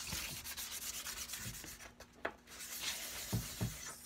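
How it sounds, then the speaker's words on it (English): Soft, close rubbing strokes of a soft cloth wiping sanding dust off a wooden button, repeated in a steady back-and-forth rhythm with a couple of light knocks. "we're going to take a soft cloth or whatever, and we're going to kind of wipe the last of the sanding off"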